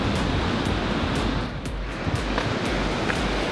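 Ocean waves break on the shore in a continuous, loud wash of surf and spray, rolling without a pause across the whole stretch, with no voices.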